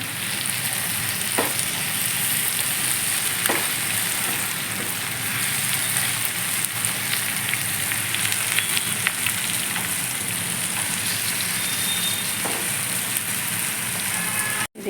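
Ivy gourd curry with onion, chili and spices is stirred in a hot pan: a continuous loud sizzle with occasional scrapes and clicks of the spoon throughout, close by and without voices.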